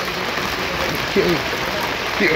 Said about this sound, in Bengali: সকাল থেকে প্রচণ্ড বৃষ্টি